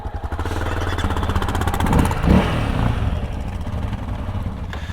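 Close and loud, a Honda dirt bike engine chugs with rapid pulsing firing on a forest trail, surges briefly, then sputters and falls away as it stalls near the end.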